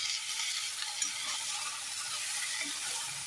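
Okra frying in oil for a Karnataka-style chutney, an even close sizzle with faint stirring scrapes throughout, no voices.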